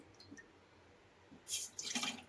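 After a quiet moment, water splashes into a pot in two short pours near the end.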